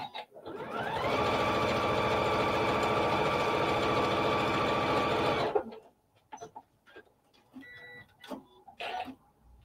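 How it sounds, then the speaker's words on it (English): A sewing machine stitches down the edge of a quilted fabric piece in one steady, close, whirring run of about four seconds, then stops, followed by a few light clicks and handling noises. "So I'm gonna sew down this edge."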